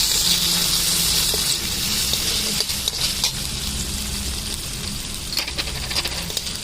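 Chopped capsicum sizzles in a hot pan of soya chilli with chilli flakes, a steady frying hiss broken by scraping stirs throughout.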